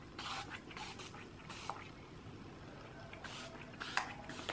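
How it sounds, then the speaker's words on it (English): A hyaluronic acid face mist is sprayed in several short, soft spritzes during an evening skincare routine, each a quiet airy hiss with small pauses between them. "It is a spray with hyaluronic acid in it. A face mist."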